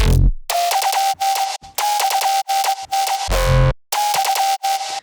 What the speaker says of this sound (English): These are just random bass fills that I found in the pack, in the Rocket Power Sounds packs.